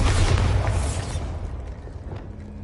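Bombarda blasting spell cast in Hogwarts Legacy on PlayStation 5: a loud, close explosive boom with a heavy low-end burst that decays into a rumbling tail over a couple of seconds, no voices.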